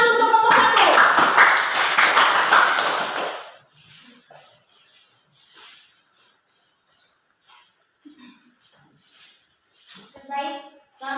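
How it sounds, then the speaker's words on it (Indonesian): Classroom audience clapping for a student group, a dense burst of many hands for about three seconds that stops abruptly, followed by a quiet room with faint insect-like hiss and a voice starting to speak near the end. "Kita tepuk tangan untuk kelompok 1"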